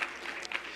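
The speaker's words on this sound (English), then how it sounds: "We can always clap for chocolate" Congregation at a New Year's Eve Burning Bowl church service breaks into a brief, soft patter of clapping, muffled and somewhat distant in the room.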